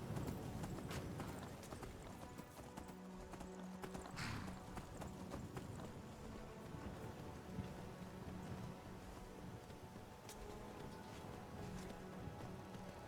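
Horse hooves clip-clop steadily in the video game Skyrim as a rider travels toward Riverwood, a continuous rhythmic plodding with faint rain-like ambience behind it.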